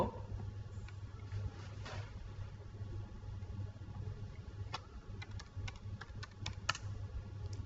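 Keys clatter on a computer keyboard as a SQL query is typed, with quick irregular taps, some sharp and close, over a steady low hum and no talking.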